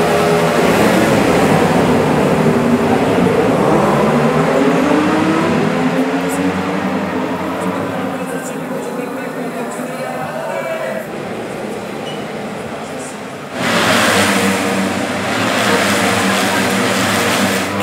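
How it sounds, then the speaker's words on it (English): Loud, continuous roar of high-revving stock Ducati Panigale racing motorcycles with race exhausts passing nearby, engines rising and falling, with a fresh surge of exhaust noise near the end. "Can you believe those are stock Panigales with race exhaust?"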